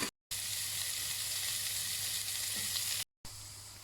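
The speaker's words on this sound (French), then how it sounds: "Je rajoute mes carottes et mes oignons. On va faire suer tout ça." Carrots and onions sweat in sausage oil in a pot, giving a steady, loud, close sizzle that runs without a break, with two short gaps of silence.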